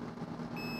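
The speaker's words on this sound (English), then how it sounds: "you see that are in continuity mode so that it beeps when they touch" A multimeter in continuity mode, probed on a shorted PS2 Slim board, gives a steady electronic beep starting partway through, close and clear over a constant low hum.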